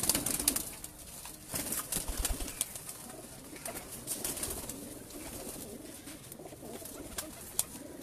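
Salara pigeons cooing among a flock, with soft murmuring coos and brief flutters repeating over about eight seconds, moderately near and fairly quiet, with no talk.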